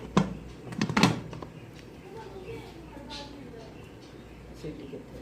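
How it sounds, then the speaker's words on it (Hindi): The lid of a pressure cooker holding beef qema is shut and its whistle fitted: two close, heavy metallic thunks come first, then quieter handling noise. "इसको ढक्कन दे के इसकी सीटी लगा देंगे।"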